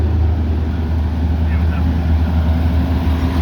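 USF Pro 2000 race car rolling into the garage at Mid-Ohio race track, a steady low engine rumble close by with constant broadband noise throughout, no clear revving.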